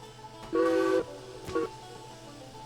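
A steam locomotive whistle in the Derail Valley railroad game gives a loud half-second blast followed by a shorter toot, heard alone over low rumbling background.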